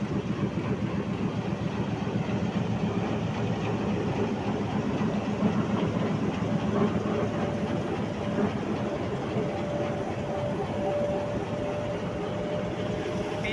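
A Pakistan Railways diesel locomotive runs steadily, a continuous rumbling engine drone with rapid rail clatter and a faint tonal whine, close and constant throughout, with no voices.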